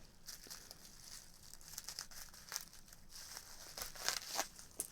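Wrapping material is cut and handled while packing a doll, making faint, close crinkling and snipping sounds that rustle continuously with small crisp peaks.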